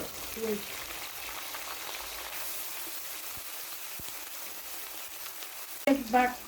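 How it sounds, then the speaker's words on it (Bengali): Onion paste frying in hot oil for a beef and jackfruit-seed bhuna, a steady soft sizzle throughout, with a brief louder crackle near the end. "বাটা কিছুক্ষণ তেলের ভেতরে ভেজে নেব, যেন কাঁচা গন্ধটা না থাকে।"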